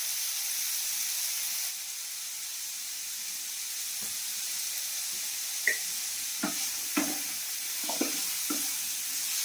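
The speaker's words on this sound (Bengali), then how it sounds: "আলুটাকে আমি ঠিক মতন ভাজি করে নিই।" Potatoes frying in a pan in a home kitchen while spicy vegetable Maggi noodles are made, a steady hiss of sizzling oil with a few soft scraping stirs and clinks near the end.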